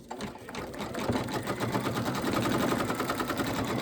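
A home embroidery machine stitches out the ears of an Easter bunny appliqué, its needle hammering in a fast, even rhythm that stays close and steady throughout.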